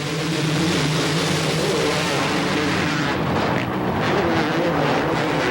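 Supercross motorcycles at the 2000 AMA Supercross opener in Anaheim rev together at the starting gate, a dense, loud, continuous engine roar that swells steadily.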